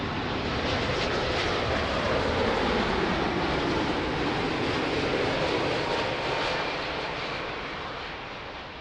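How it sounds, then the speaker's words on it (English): An airplane landing on runway 02 at Lisbon Airport, a loud continuous broadband engine roar and rush filling the whole stretch, easing slightly toward the end, with no voices. "Wow, nice landing."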